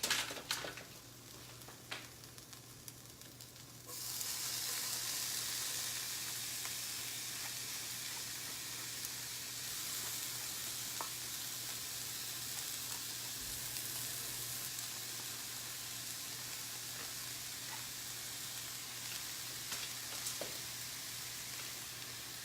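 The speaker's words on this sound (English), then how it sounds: "now we're going to stir in the squash" Squash stirred into a hot pan, a loud steady hiss and sizzle that jumps up after a few seconds of light clatter and then holds evenly, with occasional faint clicks and no talking.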